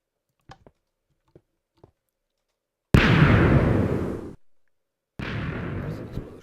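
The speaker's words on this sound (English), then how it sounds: "That's an explosion." A large 90-shot cannon in the Minecraft video game fires, with a few faint clicks followed by two long, loud explosion bursts that rumble and fade.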